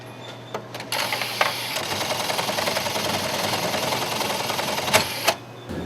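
A sewing machine stitches pockets and linings in a custom suit tailoring shop. It whirs in a continuous, fairly close run, with a few sharp clicks and knocks at the start and near the end.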